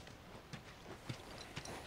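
Horse hooves clip-clop softly in The Last of Us video game, a few irregular muffled thuds over a steady ambient hiss, with no talk.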